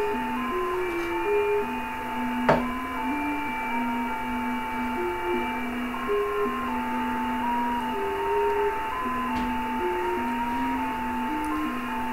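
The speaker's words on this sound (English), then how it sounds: "Here's some JT65, by the way, for those who wonder what it sounds like" A steady JT65 digital shortwave radio tone steps between pitches in a slow melodic pattern over a background hiss and hum, with a couple of sharp clicks.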